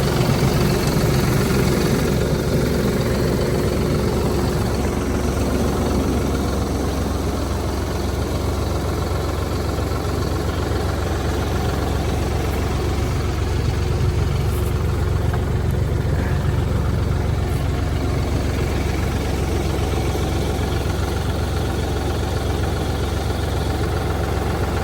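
A steady low engine rumble idles continuously throughout, with a constant vibrating drone and no voices.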